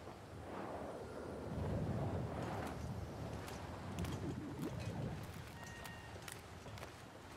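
Strong wind gusts and roars through a frozen wilderness in the survival game The Long Dark, a rough broadband rush that swells and eases, with a few faint knocks and clicks but no voices.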